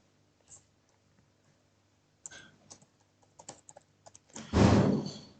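Keystrokes clatter on a computer keyboard while JavaScript code is typed, scattered clicks at first, then a quick burst of typing and a louder thunk near the end.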